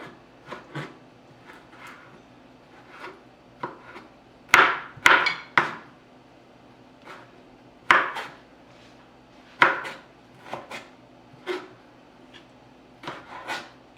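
Knife chopping food on a cutting board for a stuffed beef flank dish, with sharp irregular knocks, some in quick pairs and others spaced apart, close and clear with no talk.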